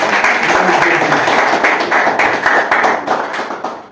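A church congregation claps together during a sermon, with loud rapid clapping from many people that tapers off over a few seconds.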